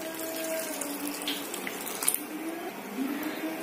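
A steady stream of water pours and splashes into a pan while cooking raw banana poori, a continuous wet rush at moderate volume with no talking.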